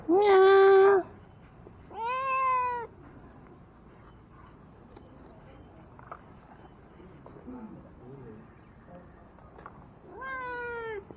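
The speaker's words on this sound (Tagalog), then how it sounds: "Meow." A cat gives three clear, drawn-out meows spaced several seconds apart, close and distinct, over a faint murmur of background activity.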